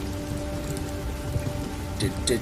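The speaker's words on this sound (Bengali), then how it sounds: "বাইরে বৃষ্টি পড়ছে" Rain falls steadily outside on a rainy night in a rural village, a dense, even patter that holds at a constant moderate level, with a couple of faint brief knocks near the end.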